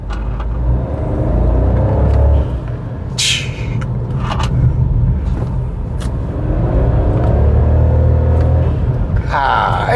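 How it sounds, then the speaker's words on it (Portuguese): A Citroën C3 Aircross XTR engine revs up and settles in a deep, close rumble, punctuated by a few short hissing turbo blow-off bursts, the clearest near the middle and end. "Esse espirrinho do turbo, isso aqui é realmente uma delícia."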